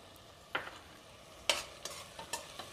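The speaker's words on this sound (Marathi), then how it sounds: "आणि दही घातल्यानंतर एकसारखं हलवत राहायचं आहे" Masala and curd stirred in a pan for egg biryani over a low flame, a few scraping, sloshing strokes of the spoon spaced irregularly against a faint background sizzle, close and fairly quiet.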